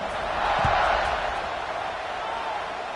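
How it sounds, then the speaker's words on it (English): A football stadium crowd buzzes after a score: a dense, continuous wash of many voices that swells slightly early on and then holds steady, with no close speech. "this crowd is buzzing after that last score"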